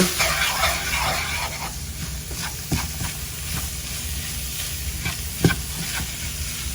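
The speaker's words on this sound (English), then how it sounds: "Cumin, chili powder. Give that a good stir." Ground meat, peppers and onion fry with cumin and chili powder in a hot pan, a steady close sizzle broken by scraping stirs and the odd clack of a utensil, with no talking.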